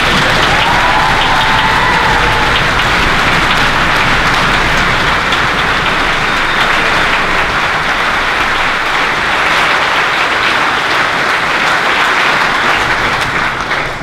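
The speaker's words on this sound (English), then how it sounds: "just stamp your feet, clap your hands" A large convocation audience breaks into loud sustained applause with stamping feet, a dense roaring wash of clapping that fills the hall for the whole stretch.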